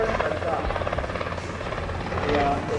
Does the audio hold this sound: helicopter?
yes